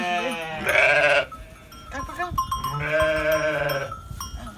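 A newborn lamb at a village farm gives two loud, drawn-out bleats close by, separated by a quieter gap with some shuffling and handling noise.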